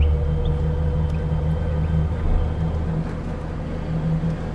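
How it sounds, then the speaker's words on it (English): A tiny Reliant Fox drives along a country lane in mid-Wales, its engine holding a steady low drone with tonal hum and road rumble, no talking. "for a drive in a tiny little Reliant."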